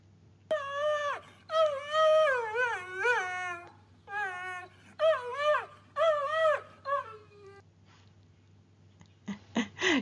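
An elderly dog howls in long, wavering, song-like phrases, several drawn-out rising and falling howls with brief pauses between them, loud and close, ending with a few short yips.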